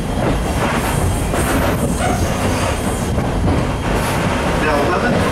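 Strasburg Railroad steam train No. 89 rolling along the tracks on the ride out to Paradise, Pennsylvania, with a steady, loud rumble and rhythmic wheel clatter filling the whole stretch.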